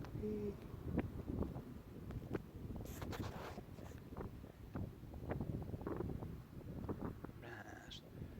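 Wind gusting and buffeting the microphone on top of Gladstone Gaol tower at sunset, a low rumbling rush with scattered knocks, while a person talks quietly over it.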